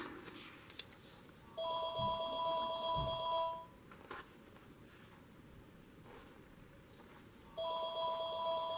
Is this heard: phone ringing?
yes